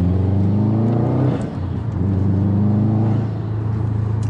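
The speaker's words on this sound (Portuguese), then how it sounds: "Se eu der pé de primeira aqui, vocês iriam ver como é que ele joga a traseira." A Subaru WRX STI stage 2 tuned to about 300 awhp revs hard in first gear, the loud close engine note climbing, dipping briefly at a shift-like break, then surging again and easing off at the end.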